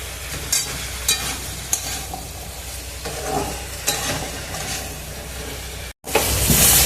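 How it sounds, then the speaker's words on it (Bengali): Potatoes with spices and green chillies fry in hot oil with a steady sizzle while a spoon stirs them in occasional scraping strokes, close and loud, the frying surging louder near the end. "আলুটা কষানো হয়ে গেছে মশলার সাথে"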